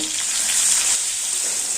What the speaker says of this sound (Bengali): মাঝে মাঝে নেড়ে চেড়ে পটলগুলোকে ভেজে নেব।